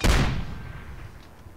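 A single heavy artillery-style blast from a smoke barrage in a first-person shooter game, booming loudly at the start and then rumbling and fading out over about a second and a half.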